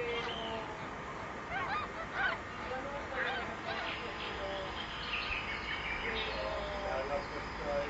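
Birds in a nature documentary give honking, goose-like calls in repeated bursts throughout, moderately loud over a steady background bed.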